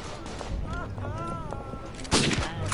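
Gunfire in the World War I trench shooter Verdun, where most soldiers carry semi-automatic or fully automatic weapons, heard as a distant rumble of shots under a voice and a tonal game sound, then a sharp, louder blast near the end.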